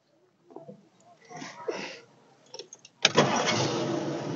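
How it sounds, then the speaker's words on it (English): Faint clicks and shuffling give way to a 1963 Ford Thunderbird Convertible's engine cranking and catching, then settling into a steady, fairly loud idle. "Can you start it up for us, Pat?"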